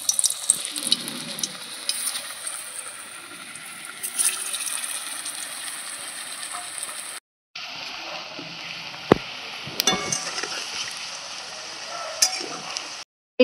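Egg devils fry in hot oil, giving a steady bright sizzle and hiss that runs almost without pause, broken only by a brief silence midway, with occasional louder crackles and no talking.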